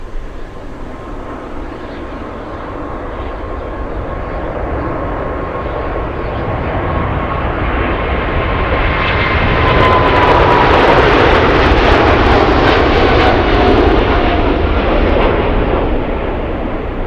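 Jet airliner at Anchorage Ted Stevens International Airport, a steady loud roar of engines that swells toward the middle and stays strong, with no talk.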